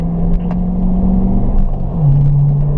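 A performance car on a racetrack holding a loud, steady engine drone from inside the cabin, the pitch dipping and settling at a lower note as it shifts up into fourth gear.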